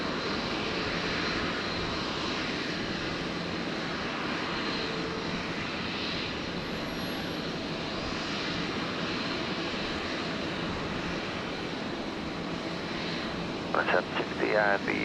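An Airbus A320 airliner arriving from Melbourne at Brisbane Airport, its engines giving a steady broad roar that holds loud throughout, with brief voices breaking in near the end.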